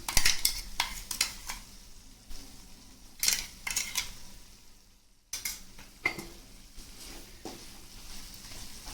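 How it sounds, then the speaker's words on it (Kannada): Chicken pieces fry in oil with a steady sizzle, broken by repeated clatters and scrapes of a spoon against the pan, with one brief pause. "ಈ ಆಯಿಲಲ್ಲೇ ಇದು ಚೆನ್ನಾಗಿ ಫ್ರೈ ಆಗ್ತಾ ಇದೆ."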